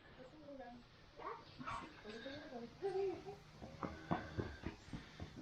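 Mac, a young dog no longer a puppy, gives soft whimpers and yips that build into short barks, close by with a person talking over part of it.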